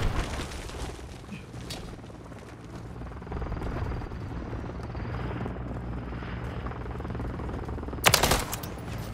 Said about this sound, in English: Requesting recon flyover.